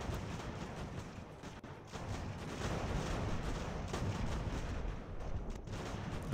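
Artillery fire from the Ultimate General: American Revolution battle game rumbles as a steady, dense barrage with repeated booming volleys, loud and continuous throughout with no talking.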